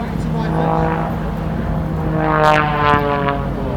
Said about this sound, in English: Watching the airplane there as it tumbles end over end.